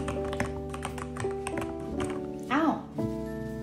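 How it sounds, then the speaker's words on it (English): Rapid, uneven tapping of keys on a computer keyboard, fairly close, over a steady tonal background hum with a brief sliding whine near the end. "when I start typing, he really hates it because it's noisy"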